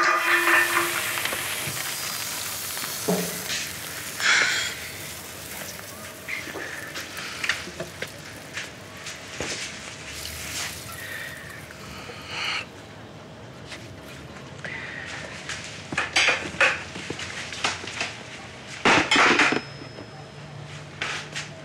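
A frying pan sizzles in a home kitchen, a soft steady hiss with scattered clatters and bumps of the pan, plus a few brief louder scrapes near the end.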